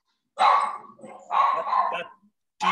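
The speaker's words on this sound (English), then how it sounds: "That deep, big dog bark" A big dog gives deep barks nearby, two loud barks with a brief pause between them and the start of a third at the end.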